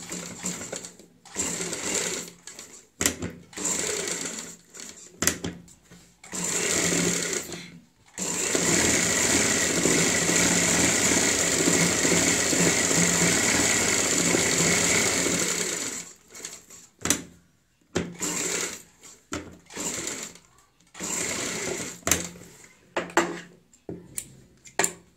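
Electric sewing machine stitching a kurti collar with buckram, running in several bursts of steady rapid whirring, one long run in the middle, with short pauses and handling noises between.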